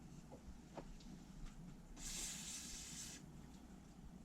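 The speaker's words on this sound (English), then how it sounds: "we're going to WD-40 the shit out of this coupling" A short hissing burst of WD-40 spray lasting about a second hits the coupling of a nitro HPI RC car, faint and close amid quiet clicks and handling noises.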